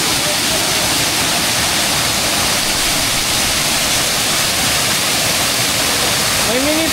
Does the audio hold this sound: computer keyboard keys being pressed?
no